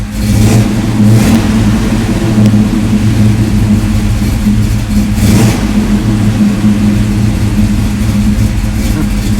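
A Z28 car engine fitted with new Brodix cylinder heads runs loud and close, rumbling steadily with repeated revs rising and falling over about nine seconds and no talking.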